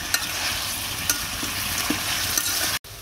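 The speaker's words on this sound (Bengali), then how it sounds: "নাড়াচাড়া দিয়ে নিই" Meat curry being stirred in a pan, a steady frying sizzle with occasional soft scrapes and clinks of the spoon, close and continuous, then a brief cut near the end.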